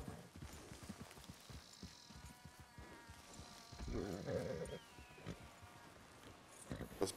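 Rhythmic hoof clip-clops from a horse in Red Dead Redemption 2, moderately loud, with a buzzing insect-like tone and faint background sounds.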